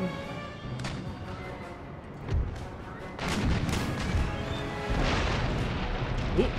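Heavy booming blasts and cannon fire in a naval battle in the video game Empire: Total War, with dense rumbling impacts layered over each other throughout, loud and continuous.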